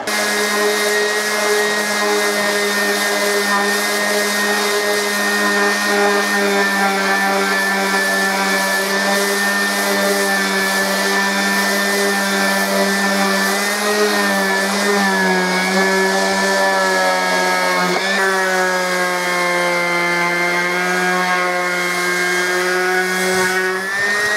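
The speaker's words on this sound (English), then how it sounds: "what we're going to do is just sand it down" Power sander working on a wooden medieval sword scabbard, a loud steady high whine that holds unbroken throughout with slight pitch wavers, close up and with no talking.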